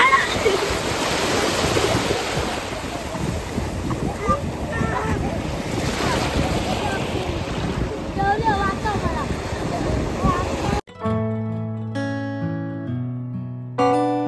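Sea waves washing onto a beach at Devbag: a continuous loud surf roar mixed with wind buffeting the microphone, lasting about eleven seconds before giving way to music.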